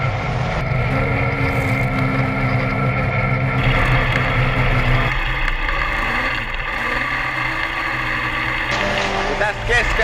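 A Polaris RZR 900 engine drones steadily while drifting on ice, the pitch shifting as the throttle rises and falls, with an unbroken loud hum throughout.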